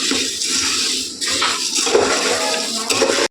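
Puffed rice (mandakki) frying in a pan for a North Karnataka mandakki recipe, giving a dense, steady crackling hiss that runs close and loud without pause, with no talk over it.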